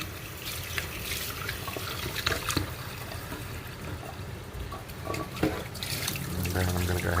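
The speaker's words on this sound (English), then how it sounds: "got my rice here, and I'm just going to go ahead and rinse this off" Running water splashing and trickling into a container, with swishing as grains are stirred; a steady wet hiss with occasional louder sloshes.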